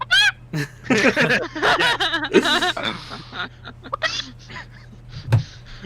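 A person mimics a chicken clucking in a rapid, squawky run of bursts, loud and close, with chuckling mixed in and a low steady hum underneath.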